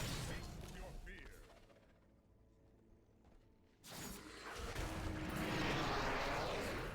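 Explosion in the video game Diablo 3 during Barbarian play: a loud burst of blasting, crackling noise that cuts in sharply after a quieter stretch and keeps roaring to the end, with busy game effects underneath.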